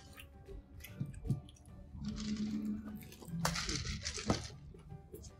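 Boiled pork roll dipped in mắm nêm fermented anchovy sauce, chewed close to the mic with soft wet squishes and smacks, plus a few crinkles and light taps, over a quiet background with no talk.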